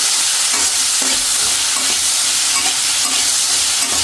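Vegetables and spices hissing loudly in a hot frying pan, with a constant sizzle and a few scraping strokes of stirring close by, and no voices.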